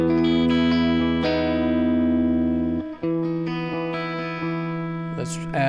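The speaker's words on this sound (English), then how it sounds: "Okay, so it's clipping. This guitar clips." An electric guitar runs through pedals and an amp, its sustained, saturated chords ringing and clipping with a distorted edge before changing to a new held chord, loud and close.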